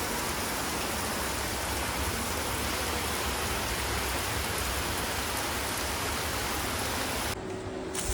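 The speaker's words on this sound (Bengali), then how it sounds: "প্রচন্ড বৃষ্টি শুরু।" Heavy rain pours down in a dense, steady roar that stays loud and even before it drops away abruptly near the end.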